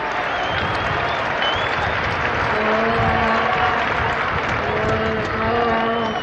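A rugby union stadium crowd at Argentina versus Italy applauds in a broad, steady wash of clapping and murmur, with a commentator's voice running over it.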